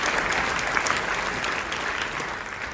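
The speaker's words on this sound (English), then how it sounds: "let's give them a big round of applause" A large crowd at the Sydney Conservative Political Action Conference claps in a dense, even roar of applause, loud and continuous throughout with no speech over it.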